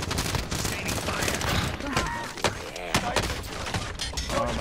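Rapid bursts of gunfire from a multiplayer shooter video game crackle densely and continuously throughout, mixed with game effects, with voices speaking over the shooting.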